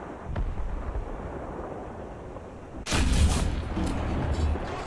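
An SU-85 tank gun fires in War Thunder: one sharp, loud blast with a booming tail rises out of low rumbling battle noise, after a fainter distant thud earlier.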